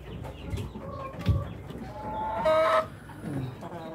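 Rhode Island Red breeder hens kept in a cage clucking and squawking, one louder drawn-out call standing out among softer scattered clucks, with faint farm background noise.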